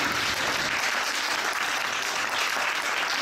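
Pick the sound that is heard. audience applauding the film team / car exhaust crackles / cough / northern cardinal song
audience applauding the film team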